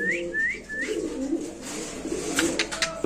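Lahori pigeons at a pigeon farm give several soft, rising coos close by, followed by a murmur of further cooing and rustling.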